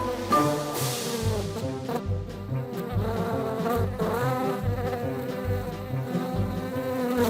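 Bees swarm and buzz steadily around banana turon fritters at a street food stall in Ermita, a dense, continuous insect drone that fills the whole stretch with no voices over it.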